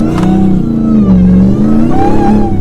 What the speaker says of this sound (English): This is the first time driving a Gladiator with a Hellcat. It sounds really good.